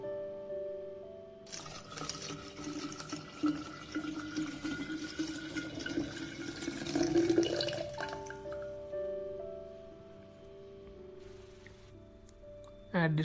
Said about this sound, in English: And you can pour the water.